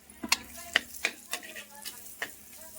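Raw mango is stirred into onions frying in a clay pot, with a soft sizzle under a string of sharp spoon scrapes and taps against the pot, close and fairly quiet.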